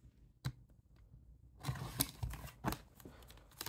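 Scissors or a blade cut through the plastic seal of a Digimon Great Legends booster box, a few close, quiet snips and crinkling tears in a series of short bursts.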